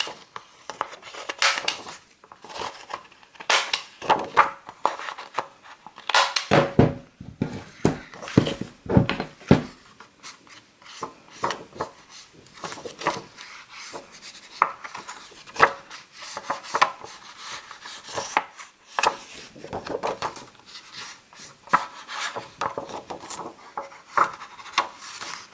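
Scrapbook album page corners being rounded off by hand, in a boho wedding album project: repeated short crisp cuts and rubbing scrapes near the mic, in irregular bursts over about twenty-five seconds, with no talk.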